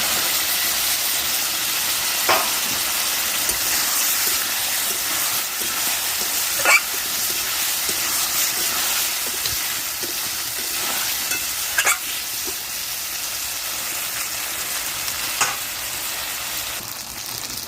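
Young jackfruit and fried potatoes sauté in a pan, a loud steady sizzle with periodic scraping strokes from a spatula stirring every few seconds, close and without speech.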